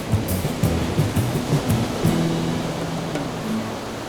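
Ocean waves in Antarctic seas surge in a loud, dense wash of noise, steady and continuous with low churning swells, while a deep musical drone plays underneath and no one speaks.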